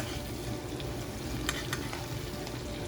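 Lemon garlic butter spooned over salmon frying in a pan, a steady close sizzle and crackle with soft scraping spoon clinks, no talk.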